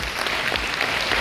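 A brief burst of steady audience clapping fills a career fair hall.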